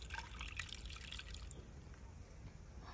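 Water is poured into a bowl of gram flour and yogurt batter for kadhi, a soft, brief trickle and splash that is faint and near, fading into quiet kitchen background.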